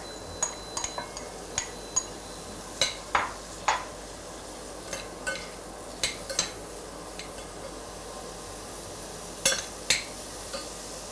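Chopped bacon, about 100 grams, stirred and frying in a pan: a steady sizzling hiss under repeated sharp utensil scrapes and taps against the pan, close and evenly spaced.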